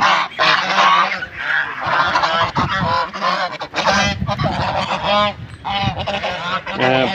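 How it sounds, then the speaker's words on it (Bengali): A flock of large domestic geese honking loudly and close, overlapping harsh calls filling the whole stretch in rapid succession. "আপনাদের এই দেখেন কত বড় বড় রাজহাঁস।"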